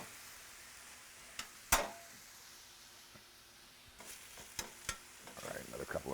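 Cheesesteak meat and onions sizzle steadily in a pan while a spatula scrapes and stirs, with a few sharp clacks and a quieter, busier stretch of stirring toward the end, no talk.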